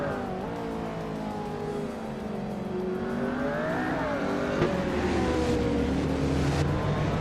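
Race cars roar and accelerate through a racing video game at the Trazado International de Puebla track, including a classic 2012 Audi R8 Spyder GT, with rising and falling engine whine, a constant loud pack of engines and no talking.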